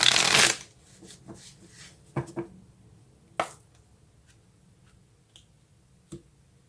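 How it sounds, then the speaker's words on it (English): Tarot cards shuffled in one loud riffling burst at the start, then a few brief soft slaps and taps as cards are laid down in near silence. "Let's take a card for set healthy boundaries."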